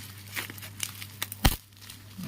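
Packing tape is pulled and torn from an Amazon gift package, giving crinkly rustles and short tearing scrapes with one sharp louder snap near the middle, over a steady low hum.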